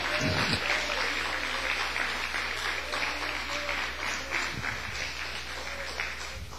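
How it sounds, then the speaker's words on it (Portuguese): A church congregation at a worship service claps in sustained, dense applause that stays loud and steady throughout, with faint voices underneath. "uma salva de palmas, louva o Senhor"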